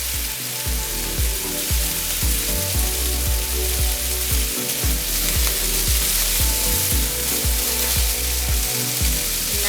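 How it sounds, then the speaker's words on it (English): Chili and jalapeno hissing in a hot wok while pork belly drunken noodles are stir-fried, a loud continuous sizzle broken by rhythmic scraping strokes of the spatula, with no talking. "Now we're gonna put in more chili."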